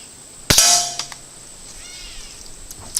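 An air gun pellet strikes a metal sign at close range, one sharp ringing clang with a metallic tone that decays over about a second, then quiet with a faint tap near the end.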